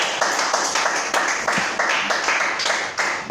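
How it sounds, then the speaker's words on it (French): A church congregation claps in a fast, steady rhythm, loud and close throughout, with a crowd of voices faintly underneath. "donne des acclamations au roi de gloire"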